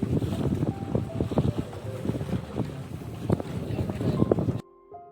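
A small passenger boat crosses open sea toward Sindhudurg sea fort, its steady engine drone mixed with wind buffeting the microphone and splashing water throughout, cutting off abruptly near the end.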